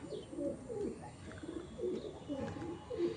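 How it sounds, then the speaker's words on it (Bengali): Pigeons of a fancy breed in a home loft coo softly in a repeated low rhythm, several calls in a few seconds, fairly faint with quiet background noise. "দেখো পায়রাগুলো,"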